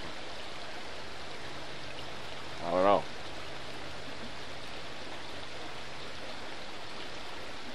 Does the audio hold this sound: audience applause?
no